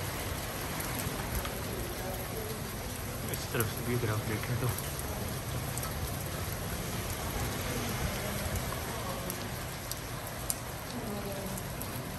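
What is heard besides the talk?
heavy rain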